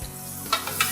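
Roma tomato pieces with mushrooms dropped into a pan of leftover hot oil, a steady close sizzle with a few brief bursts of crackle as they are stirred.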